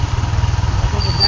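A motorcycle engine idles close by with a steady, low, pulsing putter throughout, and a faint high whine appears near the end.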